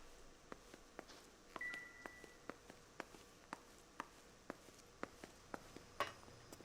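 Rotary telephone dialing in the video game L.A. Noire: a steady run of faint, evenly spaced clicks from the turning dial, with a brief tone partway through, and no voices.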